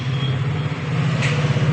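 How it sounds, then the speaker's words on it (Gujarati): A Mahindra Bolero Maxi Truck Plus pickup rolls in with a steady, close engine drone and low rumble, and a brief higher hiss rises near the end. "ગાડી બોલેરો મેક્સી ટ્રક પ્લસ"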